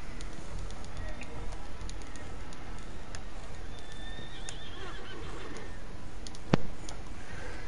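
A horse in Red Dead Online whinnies loudly, with hoof clip-clops and ambient game sounds around it, plus a sharp click near the end; a voice speaks briefly in the background.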